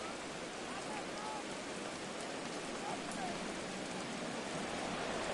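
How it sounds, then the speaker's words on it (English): Steady rain pours over an outdoor stadium during the second half of a Commanders at Seahawks football game, a dense, continuous hiss of drops on surfaces with faint crowd murmur beneath. "The rain set to continue as we are underway in the second half."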